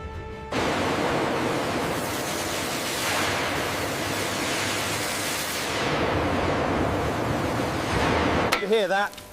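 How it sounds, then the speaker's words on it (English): A high-pressure washer blasts rust from an old Thomas model left rusting for 25 years, aimed around the eyes, making a loud, continuous close hiss that cuts off near the end, followed by a few brief tonal sounds. "You hear that? That's the sound of years of rust coming off."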